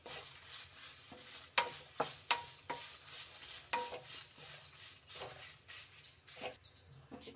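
Four Guntur red chillies roast in oil in a pan, giving a faint, quiet sizzle broken by sharp clicks and scrapes of stirring.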